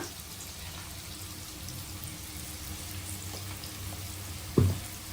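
Onions frying in oil in a pan, a low steady sizzle and crackle heard close, with a single brief knock near the end.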